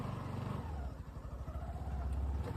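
Motorcycle riding at night on empty roads near a residential society, its engine droning steadily close by and pulsing as it accelerates, with wind rush over the top and no talk.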